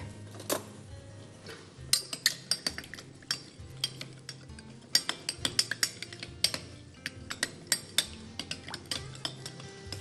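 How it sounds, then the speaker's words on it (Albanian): Cutlery clinks and taps against a bowl while a fried zucchini salad is stirred, giving irregular sharp metallic ticks close up, with no talking. "I përzjej."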